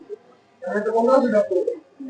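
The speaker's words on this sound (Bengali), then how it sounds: "সারুলা কবুতর হাট দেখেন দোকানের মাঝে কত সুন্দর সুন্দর জোড়া আছে" Pigeons at a busy pigeon market, a soft cooing burst heard close and mixed with nearby voices.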